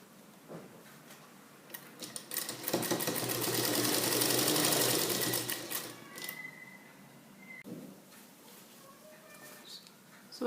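A domestic sewing machine runs in a fast, rattling burst for a few seconds while stitching elastic onto a salwar pant, then stops. Quieter handling sounds come before and after, close and fairly soft.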